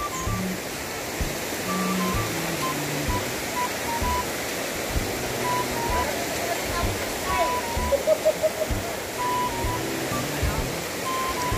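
Steady rushing river water flows throughout, a broad constant wash with people talking faintly over it as they wade across.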